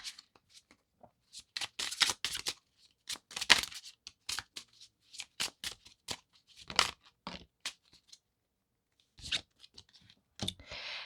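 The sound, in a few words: shuffling tarot cards to pull clarifiers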